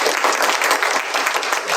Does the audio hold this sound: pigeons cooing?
no